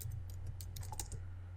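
Computer keyboard typing, a quick run of light, crisp key clicks in an irregular burst, close and fairly quiet over a steady low background hum.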